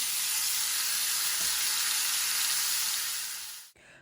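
Oxtails sear in a hot pan with a loud, continuous broadband hiss of sizzling fat that holds steady, then abruptly drops away near the end.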